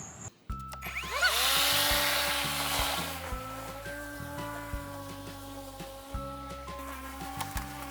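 String trimmer cutting around a yard island, a loud steady motor whine with shifting pitch running nearly throughout, alone without voices.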